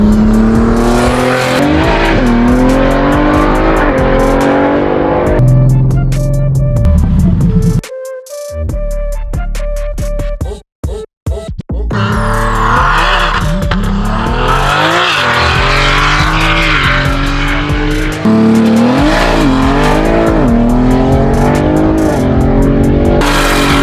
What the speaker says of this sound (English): It's an intimidating car. It sounds loud.